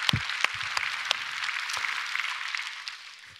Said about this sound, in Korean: 우리 아버지들을 위해서 격려의 박수 해주시기 바랍니다.